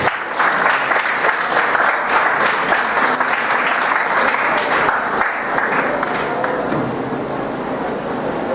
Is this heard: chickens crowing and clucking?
no